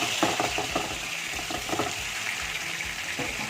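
Chicken pieces fry in hot oil in a home kitchen, giving a steady close sizzle with occasional crackling bursts and stirring clatter throughout.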